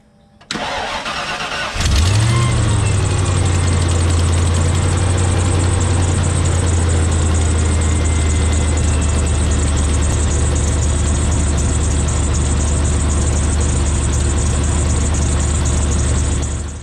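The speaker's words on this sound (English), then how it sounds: "I'm going to go ahead and start the truck." A truck engine cranks briefly, catches and settles into a loud, steady idle that rumbles on evenly for over fifteen seconds with no talk.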